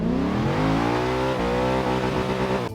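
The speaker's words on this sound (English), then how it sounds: "Notice that vicious rev limiter bounce the car has when put in manual mode." A Lexus IS F engine revs hard in manual mode, pitch climbing loudly then bouncing against the rev limiter with a rapid stuttering cut, close and alone.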